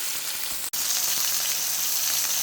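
Chicken fries in a hot pan with a dense, steady sizzle and crackle, close and loud, broken only by one very brief dropout.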